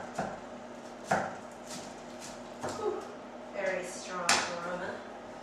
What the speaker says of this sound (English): And then you just want to chop it